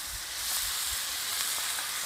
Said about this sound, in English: come on in and listen to it sizzle.